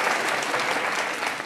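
An audience at a political forum with Humberto de la Calle breaks into loud, sustained applause: a dense, even roar of clapping hands without pause.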